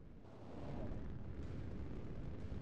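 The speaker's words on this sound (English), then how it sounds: "Firing the missile." Missiles launching in a naval video game on a container-ship map, a steady roaring rush of rocket exhaust that swells and holds, loud with no talking.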